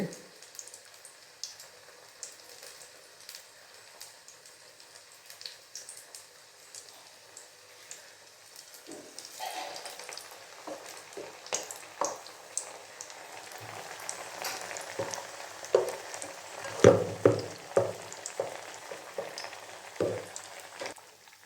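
Masala vada frying in olive oil, a quiet hiss at first that swells into louder crackling and sputtering bursts as the batter hits the oil, close up with occasional voices.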